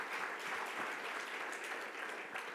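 Audience at a scientific workshop plenary session applauding the judges, a dense, steady burst of clapping from a large crowd that continues throughout.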